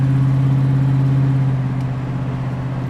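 A 1968 Mercury Cougar XR7's engine holds a steady, close hum while cruising at 50 mph, its low drone easing slightly in the second half with no voices.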